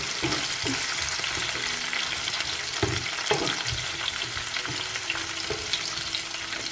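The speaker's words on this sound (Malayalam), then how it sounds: "നമുക്ക് ഇതിനകത്ത് ഇട്ട് കൊടുത്ത് നല്ലതുപോലെ ഒന്ന് വഴറ്റിയെടുക്കാം" Raisins sautéing in a pan for a raisin pickle give a steady, close sizzle, broken by repeated scrapes and knocks of a stirring spoon, with no talking.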